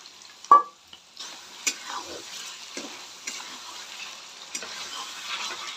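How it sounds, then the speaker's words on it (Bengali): Boiled potatoes going into sizzling fried masala in a pressure cooker: a loud thud and clatter at the start, then a quieter hiss and scattered stirring knocks, close by with no voices. "এই আলুগুলো সেদ্ধ করে রেখেছিলাম কুকারে ঢেলে দেবো"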